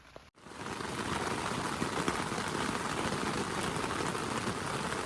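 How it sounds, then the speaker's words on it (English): Steady rain pours down on a backcountry backpacking trail loop near Tumbling Pass, a dense, even hiss that starts after a brief pause and continues loudly and unbroken, with no talking. "Oh yeah, and it's raining again."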